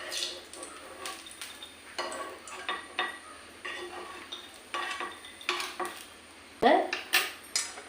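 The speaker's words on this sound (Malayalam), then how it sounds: "സിമ്മിലിട്ടിട്ട് വേണം നമ്മൾ വറുത്തെടുക്കാനേ" A spoon scrapes and clinks against a pan of raisins frying on low heat in irregular strokes, with a faint sizzle of frying underneath.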